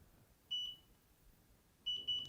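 Short electronic beeps from a Delkim fishing bite alarm sound faintly: one single beep, then a quick cluster of two or three, with quiet background between.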